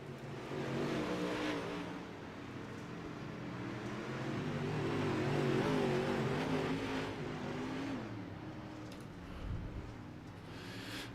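UMP Modified dirt race cars at Lernerville roar around the track, engines revving and rising in pitch as they pass close by, the sound swelling and fading over several seconds with no talk.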